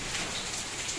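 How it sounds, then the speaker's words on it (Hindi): Hail falling in Jammu, a dense steady hiss of ice pellets pattering on surfaces, loud and continuous for a brief moment with no voices. "ओले आ रहे जम्मू में पहली बार।"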